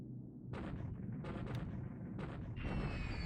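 Bombing raid explosions in the War in the Pacific strategy game, a series of heavy booming blasts over a constant low rumble, loud and close, with no voices.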